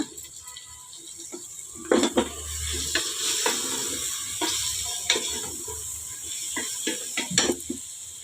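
Paneer cubes are stirred into a pan of biryani masala for hotel-style paneer kuska: repeated scraping spoon strokes over a steady, low sizzle, close and moderately loud, with no talking.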